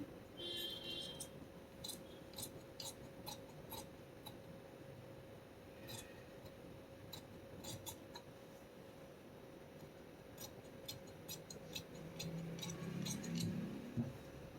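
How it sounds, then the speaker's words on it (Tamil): Scissors snipping through blouse fabric along the front neckline, a string of quiet, sharp clicks and short cuts spread evenly through the stretch with a steady low hum beneath. "இந்த ஃப்ரண்ட் கழுத்தையும் நம்ம கட் பண்ணிடலாம்."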